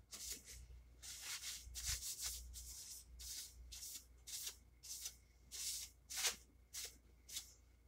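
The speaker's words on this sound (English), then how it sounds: "Take a look at how my sanding's coming." Sandpaper rubbed over a heat-treated steel knife blade in rhythmic back-and-forth strokes, about a dozen close, raspy passes with brief pauses between them.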